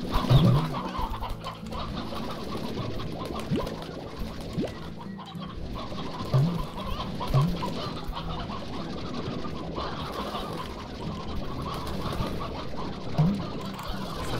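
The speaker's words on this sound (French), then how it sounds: "j'ai différents types de poules ici." Several kinds of chickens in the Slime Rancher video game cluck in short, scattered calls over a steady background of game ambience, moderately loud with no voices.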